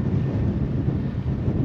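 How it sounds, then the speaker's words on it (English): Strong gusty wind buffets the microphone at a lakeside fishing spot, a steady loud low rumble with no pauses. "That wind seems to be picking up a little bit."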